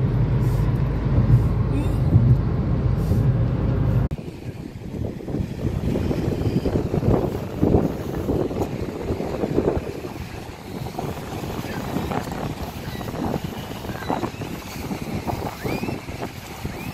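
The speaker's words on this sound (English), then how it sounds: "Windy outside today," Wind gusts outdoors at a farmers market by a mall, rumbling and buffeting the microphone steadily and loudly, with voices faintly in the background.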